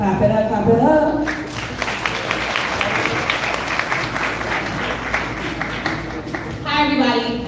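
An audience claps steadily for several seconds at an awards event, a dense continuous patter of many hands, with a voice talking over the start and again at the end.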